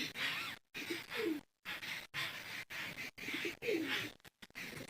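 Pigeons coo in repeated soft, throaty phrases separated by short pauses, fairly close and clear against a quiet background.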